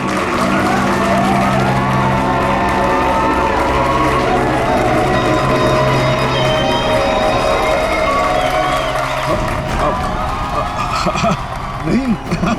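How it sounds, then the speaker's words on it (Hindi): A crowd claps and cheers at a staged magic-style show, a dense wash of applause and shouting mixed with voices, fading into scattered clapping near the end. "तालियां!"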